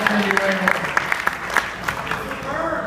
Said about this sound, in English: Round of applause for that answer, quick.